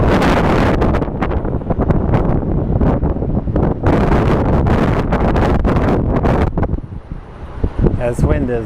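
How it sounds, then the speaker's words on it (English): Wind buffets a microphone outdoors at Sky Harbor Airport in loud, rumbling gusts that come and go throughout, sometimes easing before roaring up again. "This wind is no bueno for me."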